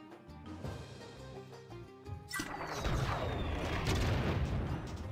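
A bomb goes off in the Skylanders video game Spyro's Adventure: game music gives way at about 2.4 s to a loud, sustained boom with crackling debris and rumble that lingers to the end, with no talk.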